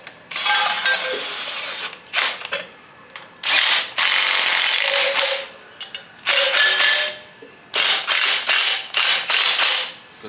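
A power ratchet zaps loose two 14 mm bolts on a K-series engine teardown, heard as several close, loud bursts of whirring and rattling clicks separated by short pauses.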